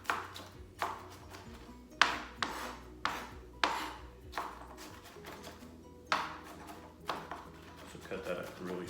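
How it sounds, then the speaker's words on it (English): A knife chopping onions very fine on a board while a spanakopita filling is prepared: about a dozen sharp, separate knocks in a loose rhythm, close and fairly quiet, with a low hum underneath. "Cut that up really small."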